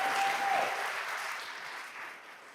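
A congregation applauds during a church service, a broad dense burst of clapping that starts strong and gradually tapers off, no talking over it.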